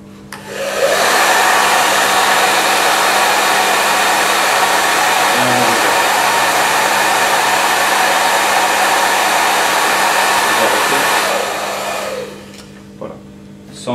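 Hair dryer blowing onto a model wind turbine, a steady loud whooshing roar that starts abruptly, holds for about ten seconds, then cuts off, with a couple of small clicks afterward.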